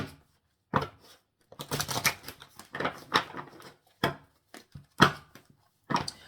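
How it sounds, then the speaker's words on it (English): Tarot cards are shuffled by hand in short, irregular bursts of crisp clacking and riffling, separated by brief silent gaps, recorded close up with no talking. "Let me just do a little shuffle."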